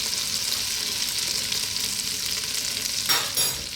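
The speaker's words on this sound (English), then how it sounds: "I just want to cook this flour out in that butter and all of those other lovely juices that we have" Flour cooking in butter and pan juices for a lamb braise, a steady close sizzle with soft stirring scrapes, a couple of brief louder scrapes near the end.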